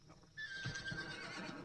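A horse whinnies once in a video game, a clear rising-and-falling neigh that sounds fairly distant and quiet, with faint hoof clops beneath it.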